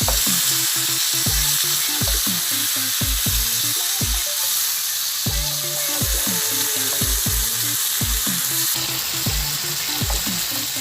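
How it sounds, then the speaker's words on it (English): Fish sizzling steadily in a frying pan, half-fried for a barbecue fish dish, with a loud continuous crackle and repeated rhythmic low thumps or scrapes throughout, no voices. "I'm going to fry it half done."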